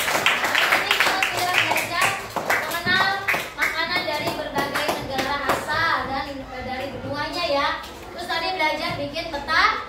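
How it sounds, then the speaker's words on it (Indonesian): Sixth-grade classroom children clap for a classmate named Siti. Brisk, rhythmic hand claps mix with loud, lively children's voices calling out throughout, close and busy. "Oke, tepuk tangan buat Siti."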